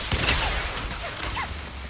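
Gunfire in a video game, a rapid burst of shots over busy game sound effects, with faint voice-like tones in the mix.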